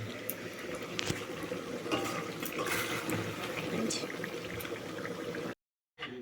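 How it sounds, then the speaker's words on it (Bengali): Water poured into a pot of chicken cooking on a home stove, a steady close-up splashing and filling wash with sizzling underneath, running continuously before cutting off abruptly near the end. "আর চিকেন এবারে জল দিয়ে দেবো।"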